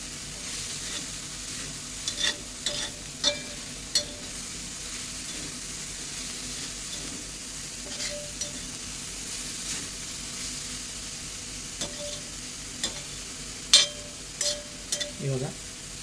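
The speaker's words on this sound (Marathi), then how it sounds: "परत भाजी चांगली परतून घेऊ." Dill greens being sautéed in a pan, a soft steady sizzle with scattered scrapes and clinks of a spoon stirring, close by with no voices.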